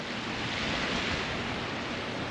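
Steady, broad rushing wind roars against the microphone, constant and loud with no pauses or voices.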